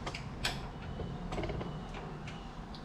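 A wrench works loose a 12 mm bolt during alternator replacement on a Toyota Camry, Corolla or sixth-generation Celica, giving close, irregular metallic ticks and creaks over a low background rumble.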